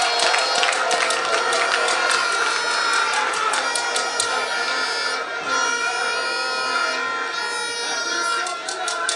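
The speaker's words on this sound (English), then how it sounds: "We have to clap for him and clap for that." Crowd clapping and cheering at the commissioning ceremony of an affordable housing estate at Asokore Mampong, a loud sustained wash of applause through the whole stretch with no break.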